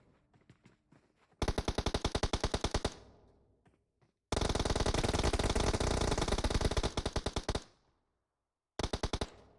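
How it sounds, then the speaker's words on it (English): Automatic rifle fire in PUBG Mobile during a scrim match: three long, rapid bursts of close, loud shots with short silent gaps between them. "Shooting at the enemies from the true team"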